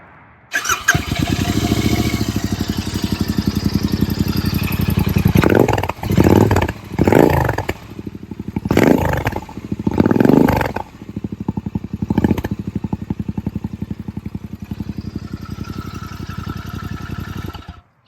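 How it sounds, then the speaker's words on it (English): A Royal Enfield Interceptor motorcycle fitted with big bore exhausts and Canon silencers starts up close by, then idles with a loud, rough, pulsing burble broken by several sharp throttle blips before settling back to idle. "I'll start the bike up so you can hear how much better it sounds with these big bore exhausts on, paired with the Canon silencers"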